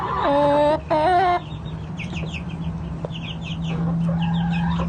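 Chickens cluck and squawk loudly up close at first, followed by quieter clucking and chirping over a steady low hum, with no talking.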